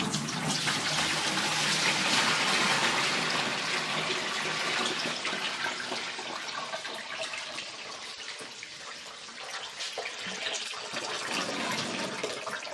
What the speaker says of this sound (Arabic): دابا نتيها الماء